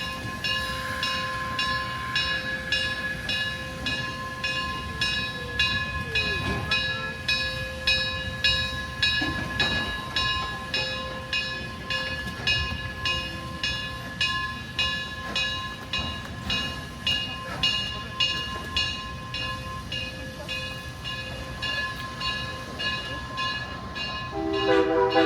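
Durango & Silverton narrow gauge steam train with two steam engines climbing the mountain, chuffing in a steady repeating rhythm with sustained whistle tones held over the rumble, close and loud.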